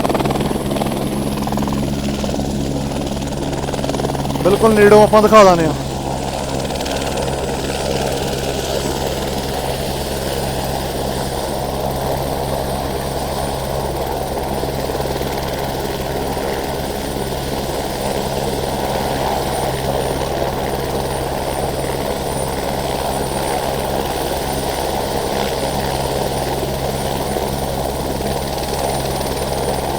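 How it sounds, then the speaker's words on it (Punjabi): A helicopter's rotor and engine roar continuously nearby as it lands at Hemkund Sahib, a steady heavy drone with a brief louder swell early on, and someone speaks briefly. "ਇਸ ਤਰ੍ਹਾਂ ਹੈਲੀਕਾਪਟਰ ਲੈਂਡ ਹੁੰਦਾ"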